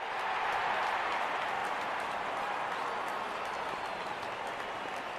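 Stadium crowd cheering in the cricket game Real Cricket 22 as the openers walk out, a steady, dense roar of many voices and clapping that holds at an even level throughout, moderately loud and distant.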